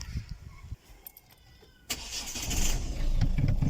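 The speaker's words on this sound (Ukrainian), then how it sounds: "зараз я за машину заведу" After some quiet clicks and rustling, a car engine cranks and catches, then settles into a steady nearby rumble.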